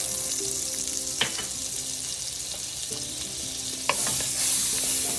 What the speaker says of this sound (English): onto the same skillet, I'm going to add 2 tablespoons of butter